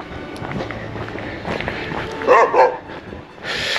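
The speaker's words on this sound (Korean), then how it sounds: "강아지 짖는 소리 소음 좀 있습니다." Dogs in a rural Korean village near a hillside housing plot, a few barks and yips heard outdoors at moderate distance over wind and movement noise.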